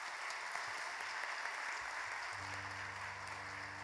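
A church congregation at a Wednesday prayer meeting claps in a continuous, even wash of applause heard from a distance, with a sustained low instrumental tone entering in the final second and a half.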